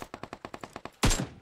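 Automatic gunfire in PUBG Mobile, a quick string of about nine evenly spaced shots, then a louder, denser burst of fire close by.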